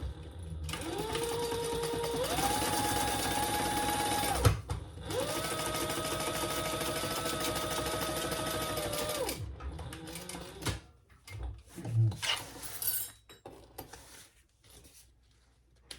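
A sewing machine bastes the two large outside pockets of a crossbody bag flat, running in long steady whirring bursts with short pauses between, close and loud, then a few brief fabric handling sounds.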